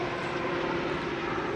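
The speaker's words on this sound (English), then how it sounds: "There goes a helicopter." A helicopter flies past overhead, a continuous droning rotor and engine hum holding steady at moderate loudness with no talking.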